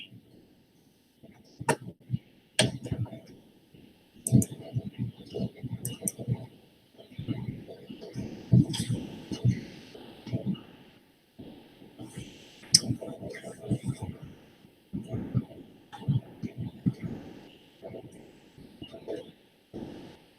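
Computer keyboard typing in a lecture setting, with bursts of quick key clicks under intermittent talk by a nearby voice.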